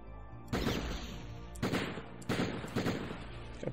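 Beretta pistol fire in the Die Hard Trilogy video game, with loud bursts of rapid shots arriving in three or four clusters separated by brief gaps, each burst followed by a short ringing decay.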